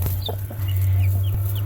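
A mother hen with four newly hatched chicks clucks softly while the chicks let out thin, high peeps, scattered over a steady low hum.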